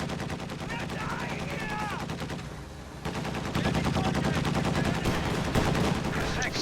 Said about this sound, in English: Sniper has to retreat immediately from AA half-track fire